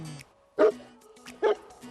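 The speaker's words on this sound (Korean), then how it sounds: "짖으면서도요" A dog barks twice on a walk while held on a slack leash during training, two loud sharp barks about a second apart with quieter whines and rustling between.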